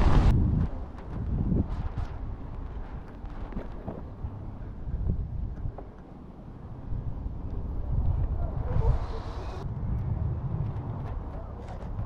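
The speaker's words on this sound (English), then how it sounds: "That wind's getting in my face again." Wind buffets the microphone in low rumbling gusts beside a canal towpath, with a steady outdoor roar underneath.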